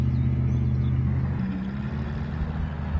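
Off-road truck engine in Spintires, a low steady droning rumble that builds slightly as the vehicle picks up speed, continuous and fairly close with no talking.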